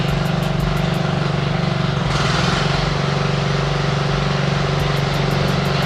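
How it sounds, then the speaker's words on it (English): A garden tractor engine drones loudly and continuously a few houses away, a rough, strained running tone that sounds like it is close to failing, with no talking over it. "It's a garden tractor, bro."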